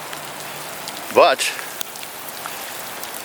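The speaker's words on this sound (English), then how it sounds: "it's been really torrential downpour for the last couple of days" Heavy torrential rain pours down in a steady broadband hiss, with a brief spoken word cutting through the middle of the downpour.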